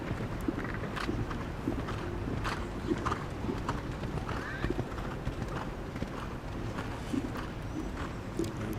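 Horse hooves beat in a steady rhythm on an arena surface during an FEI Eventing European Championship dressage test, at moderate distance under a constant wash of outdoor wind and crowd noise.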